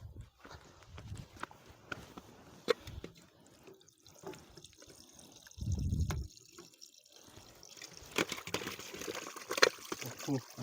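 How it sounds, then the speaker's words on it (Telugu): Water runs and splashes while raw chicken is washed outdoors in a village kitchen, an uneven trickling and sloshing with sporadic louder splashes and handling noises, under faint talk. "చికెన్ అయితే వాష్ చేసుకుందాం ఇప్పుడు."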